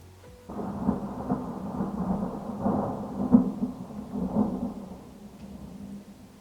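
A summer thunderstorm rolls outside, with deep rumbling thunder swelling and fading over steady rain, moderately distant and continuous without talk.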